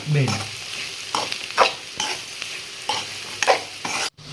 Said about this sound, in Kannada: ಪೂರ್ತಿನೂ ಮಿಕ್ಸ್ ಮಾಡ್ಕೊಂಡ್ಬಿಡ್ತೇನೆ ನೋಡಿ ಇದು ಚಲೋ ಬೇಯಲಿ